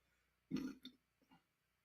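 A single close, low burp rumbles out after an Indian meal, followed by a couple of smaller throaty gulps in an otherwise quiet space.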